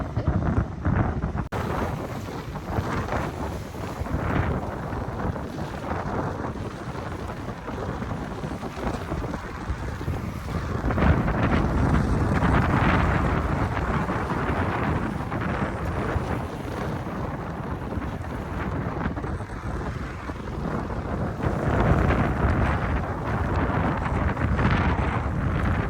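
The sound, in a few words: strong wind at Ladybower Reservoir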